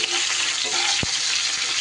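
Pieces of pointed gourd (potol) frying in oil: a loud, steady, close sizzle with a brief clunk partway through, and no speech.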